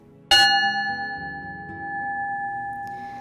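A memorial church bell strikes once in a sanctuary, a sharp clang followed by a long ringing tone that hangs and slowly decays through the reverberant room, with faint murmur beneath.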